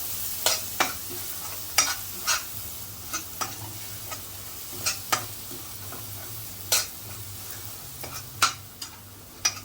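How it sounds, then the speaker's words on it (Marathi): Steady sizzling of spice paste frying in a pan for Bombay duck curry, punctuated by repeated sharp scrapes and taps of a spoon stirring against the metal. "अर्धा मिनिट फक्त परतायचं आहे वाटण आपल्याला"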